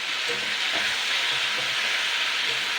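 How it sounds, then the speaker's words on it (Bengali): Vegetables and peanuts fry in a pan for a moringa leaves dish: a steady, close, loud sizzle with faint scraping stirs, no voices. "বাদামটা যখন ভাজা ভাজা গন্ধ হবে তখন সব সবজিগুলো অ্যাড করতে হবে"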